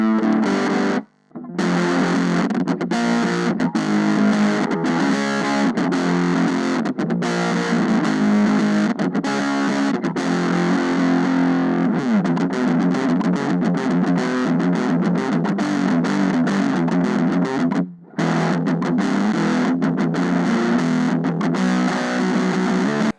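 Harsh, fuzzy distorted electric guitar playing continuously through a blown, crackling, overdriven speaker of a cheap Wish guitar product, with two brief dropouts along the way.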